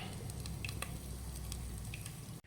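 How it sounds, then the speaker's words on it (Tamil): Oil goes into a hot clay pot and sizzles steadily, close and fairly quiet, with faint crackles throughout. "தேவையான அளவு எண்ணெயை ஊற்றுறோம்."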